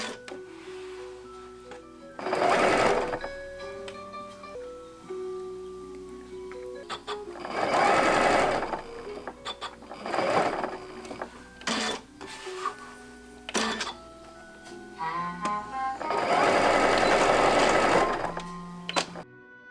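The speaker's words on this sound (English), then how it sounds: "I will add a gather stitch to the top of my lace" A sewing machine stitches a gather stitch along the top edge of lace for a cosplay costume, running in loud whirring bursts with short pauses between them.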